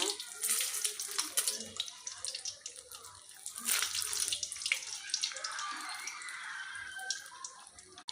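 Egg-dipped snacks frying in hot oil, a close, crackling, bubbling sizzle with irregular pops that continues steadily throughout.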